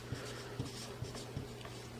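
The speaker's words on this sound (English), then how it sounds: "So down here then, I'm going to go ahead and write that." Pen writing a number by hand on paper, a few close, soft scratching strokes in quick succession, each brief and quiet, with no talking.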